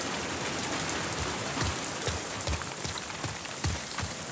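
Steady rain falls in the video game The Last of Us Part II, a dense constant patter on surfaces with soft irregular low thuds of drops, no voices.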